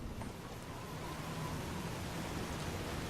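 Rain in the video game Fallout: New Vegas pours as a loud, steady hiss of dense downpour, continuous and even throughout with a low rumbling undertone and no voices.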